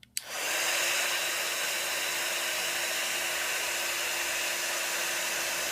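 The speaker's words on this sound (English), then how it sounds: "once your heat tool is all heated up, it's going to work great" A heat tool blows onto embossing powder on a card, clicking on and then holding a steady, close airy roar with no other sounds.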